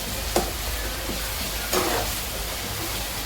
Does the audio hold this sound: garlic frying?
yes